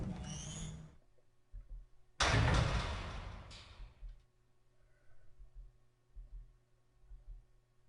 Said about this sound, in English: Embracing my chest and shoulder against the door, I threw all my weight into opening it.